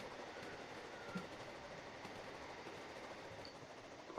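A Roblox train runs on rails with a soft, continuous rumble and faint clatter, quiet and distant, with no talk over it.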